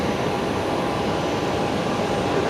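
Kalitta Boeing 747 taxiing along a taxiway at Brisbane Airport, a steady broadband jet engine roar with a constant rumbling hiss, moderately loud and unbroken throughout, no voices.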